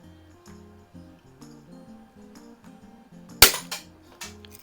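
A first-edition Crosman 760 air rifle fires a single sharp, loud crack, followed by a few quieter clatters, against a soft background of music with regular beats.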